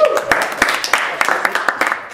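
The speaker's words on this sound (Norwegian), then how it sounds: "Applaus." A small audience at a Norwegian classroom-style session gives brief, sparse applause: scattered individual claps over about two seconds, with voices talking underneath.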